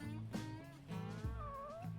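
A cat meows in the video game Yakuza 6, with a short, mid-pitched cry rising and falling over steady tonal in-game background sound.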